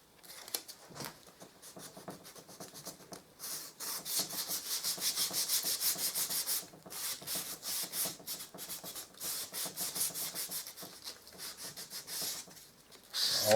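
Hand sanding of an MDF bead moves along the grain in steady back-and-forth rasping strokes, close and fairly loud, with brief pauses between runs.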